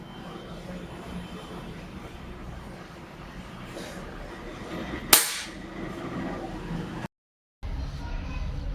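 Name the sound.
PCP air rifle shot at Rin soap bar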